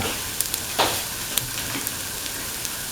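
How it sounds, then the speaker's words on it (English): Vermicelli pasta with egg and tomato sizzling in a pan, a close, steady frying crackle broken by a few sharp clinks and scrapes of stirring. "Saute for 1 to 2 minutes and mix all the ingredients thoroughly with the vermicelli pasta"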